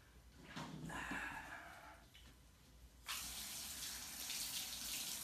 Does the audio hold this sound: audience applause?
no